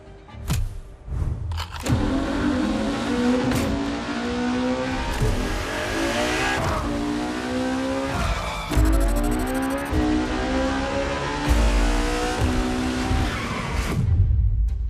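Ferrari Enzo supercar from 2002, driven in The Crew Motorfest racing game, with a loud, sustained engine roar that rises and falls through gear shifts, tire squeal and skidding mixed in, close and continuous with no talk.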